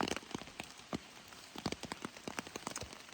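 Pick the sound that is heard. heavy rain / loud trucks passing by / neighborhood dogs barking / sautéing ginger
heavy rain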